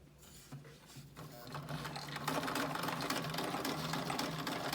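A Viking Husqvarna 21CLA sewing machine running a wide zigzag stitch, its steady mechanical whir and rapid needle clatter starting slower and building to a continuous, loud, even hum.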